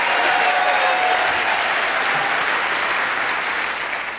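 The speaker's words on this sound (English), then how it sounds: "And I can clap also." Steady applause-like clapping fills the clip, dense and continuous at moderate level before tapering slightly at the end, with no speech over it.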